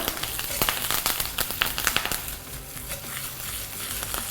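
Ginger and curry leaves hit hot oil with browned toor dal, giving a dense, steady sizzle and crackle with sharper pops early on that settle into a softer, even hiss.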